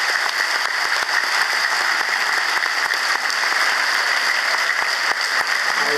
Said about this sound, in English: applause for coming?